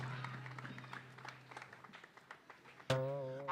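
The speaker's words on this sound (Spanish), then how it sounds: "Forte aplauso aquí para os nosos amigos, os nosos músicos" Audience clapping for a quartet of musicians at a variety puppet show, a moderate patter of scattered applause over a low hum, ending with a loud sudden bump and tonal ring.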